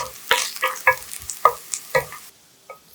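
Eggplant fries in olive oil over medium-low heat and is stirred in the pan, with uneven scraping strokes and soft clatter over a faint sizzle, ending in a short quieter pause.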